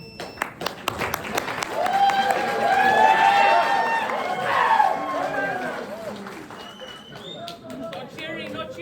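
An indoor audience at a Los Angeles candidate forum claps and cheers, building to a sustained burst of applause and voices that fades as people keep talking.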